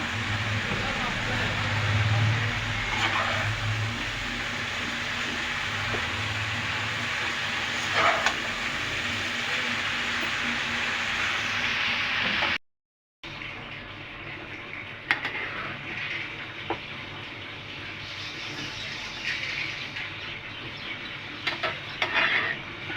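Spinach greens go into a pan and cook, giving steady sizzling, stirring and utensil scrapes with occasional clinks, briefly cut by a gap of silence; a voice talks over the kitchen sounds.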